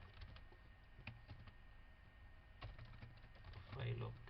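Computer keyboard typing while a folder is created, irregular clicking keystrokes in short bursts, quiet and close, with a voice speaking briefly near the end.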